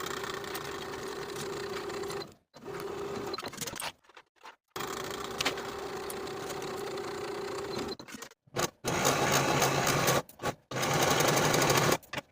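A sewing machine stitches the seams of a boho top in bursts of steady, fast whirring, stopping and restarting several times with brief silent pauses between runs, close and clear.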